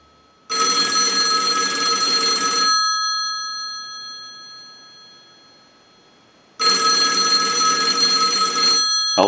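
A Southwestern Bell single-slot payphone's bell rings loudly and close, set off by a line analyzer's ring cycle: a long metallic ring of about two seconds, a pause, then a second ring starting.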